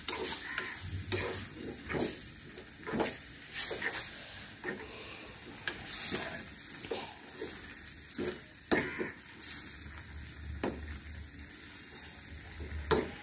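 Green chilies go into a curry cooking in a pan at home, with a steady sizzle and frying hiss under repeated stirring scrapes and taps, fairly faint and with no talk.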